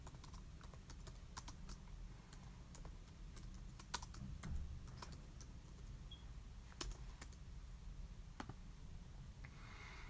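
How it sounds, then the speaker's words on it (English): Steady typing on a computer keyboard, quick irregular key clicks with occasional louder strokes over a low background hum, close and moderately quiet, with no talking. "I'm just typing."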